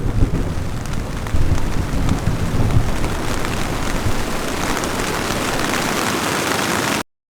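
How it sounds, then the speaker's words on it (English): A thunderstorm with heavy rain drums steadily on a single-walled Dyneema tent at night, a dense continuous roar with low rumbling thunder rolling underneath, loud and close throughout. "lying in your tent at night with the storm raging just outside the single-walled"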